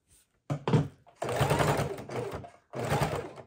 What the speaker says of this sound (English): Going slowly across the hooks and loops